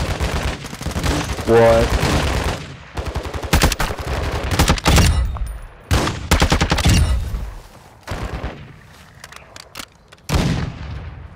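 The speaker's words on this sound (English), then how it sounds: "let's shoot these guys before we pop it" Call of Duty gunfire crackles in repeated bursts and single loud shots, close and punchy, with short gaps between volleys and brief voices talking now and then.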